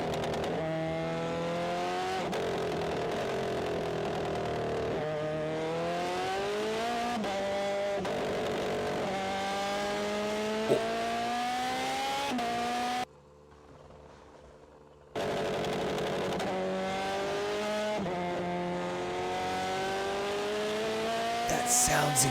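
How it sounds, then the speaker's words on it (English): Race car engine from a played recording, loud sustained high-pitched revving that climbs and drops through repeated gear changes, with a brief cut to near silence midway. "Car goes burr."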